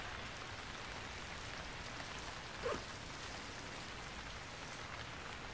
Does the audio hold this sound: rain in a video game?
yes